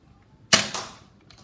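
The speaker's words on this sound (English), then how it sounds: "So I'm gonna fire 3 darts normally, and another 3 darts mistake fire." A Nerf Elite Strongarm blaster fires a single foam dart: one sharp, loud snap-and-whoosh burst that fades over about half a second, followed by quiet.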